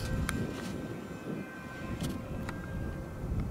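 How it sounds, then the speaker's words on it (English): An Avios Albatross HU-16 radio-controlled flying boat in US Coast Guard markings flies overhead. Its electric motors give a steady airborne drone over wind rumble, heard at a moderate distance with no talk. "It's a nice flying airplane."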